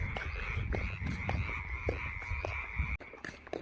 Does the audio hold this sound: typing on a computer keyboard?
no